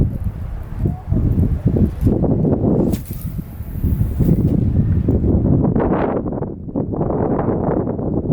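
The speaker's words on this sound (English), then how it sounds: "Here comes big wind." Strong wind gusting over a lake during jerkbait fishing, a loud, steady roaring rush with buffeting on the microphone that swells and eases throughout.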